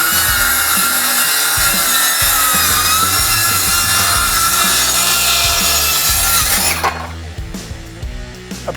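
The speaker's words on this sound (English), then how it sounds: "A precise 3-inch rip cut." A WORX 20V ExacTrack circular saw rips a 3-inch strip off a wooden board, giving a loud, steady whining cut that runs for about seven seconds before the blade winds down to a quieter spin.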